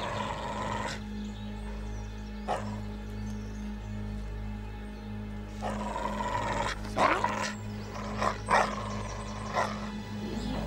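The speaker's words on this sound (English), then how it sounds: "Don't touch the dog, Jamie." A dog barks several times in short bursts over a steady low hum and background drone, the sharp yaps standing out fairly close.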